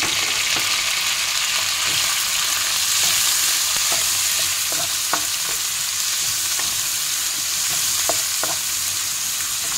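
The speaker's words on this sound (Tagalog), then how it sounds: "Igisa muna natin siya hanggang sa maluto." Shrimp and kikiam fish balls sauté in a pan for sotanghon noodles, a loud continuous sizzle with scattered scraping clicks of a utensil stirring.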